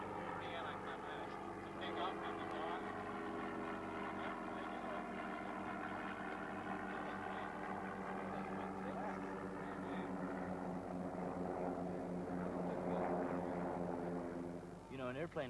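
Rutan Voyager aircraft with Lycoming piston engines taking off, a steady droning propeller and engine hum with wavering tones throughout, heard at moderate distance.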